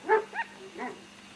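A pregnant female dog gives two quick high barks, followed by a softer whining yelp, faint and close by.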